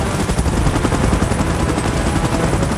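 Helicopter in the PUBG Mobile game, a chopper arriving for an evacuation during a Godzilla and Kong versus Mechagodzilla mode, as a loud steady rotor roar with a dense low rumble and pulsing blade beat throughout, no talking.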